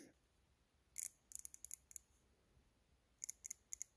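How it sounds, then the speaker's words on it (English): GearWrench 120XP quarter-inch drive ratchet giving quiet, fine clicks in two short bursts of rapid ticks separated by a pause, close and alone in a still room. "This is my 1/4 inch drive Gear Wrench kit. Gear Wrench has really outdone themselves with their ratchets."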